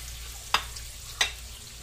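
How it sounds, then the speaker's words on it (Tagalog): Garlic sautés quietly in a pan with a soft, continuous sizzle, broken by two brief scraping stirs about half a second apart. "tapos mag-isa tayo ng bawang"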